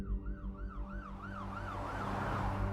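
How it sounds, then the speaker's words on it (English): An ambulance siren wails in a steady rising-and-falling cycle, clear and fairly close, over a low rumble of road traffic. "Minutes later, an ambulance arrived, followed by a fleet of police cars."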